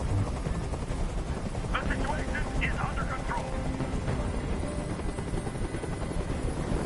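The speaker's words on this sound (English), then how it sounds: "Tell that helicopter to get out of here." Steady, loud helicopter rotor drone fills a video game scene from start to finish, with a character's voice talking over it.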